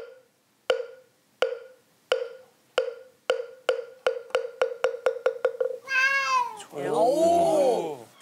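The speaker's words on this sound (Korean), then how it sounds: "우리 집 고양이들이 소리에 또 민감하거든요. 좋은 건 또 반응을 해줘요." House cats meowing in reaction to a meditation sound: a steady train of short, evenly spaced tones speeds up, then gives way to two drawn-out, close meows, with a brief voiced exclamation.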